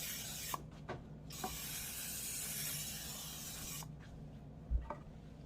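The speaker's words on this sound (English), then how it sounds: "take some cooking spray and go ahead and do the bottom and sides of both of these pans" Two long hissing bursts of aerosol cooking spray onto baking pans, each lasting a couple of seconds, close by, with light clinks around them.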